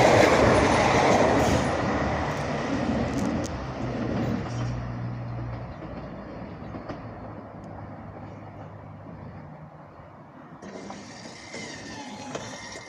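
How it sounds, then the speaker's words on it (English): A CrossCountry Class 170 Turbostar diesel multiple unit, 170102, running from Birmingham New Street toward Stansted Airport at Syston, rumbles loudly past close by, then its engine drone and rail clatter fade steadily into the distance. "So our first train is a cross-country turbo star."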